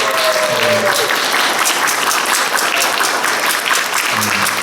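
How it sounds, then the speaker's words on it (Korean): Congregation applauding during a Korean Presbyterian church Sunday service, a steady, dense wash of clapping filling the whole stretch, with faint organ or keyboard notes underneath. "박수를 한번 다시 한번."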